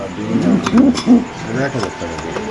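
A caged pair of pigeons at a pigeon market gives a few loud, close, low hooting coos in quick succession.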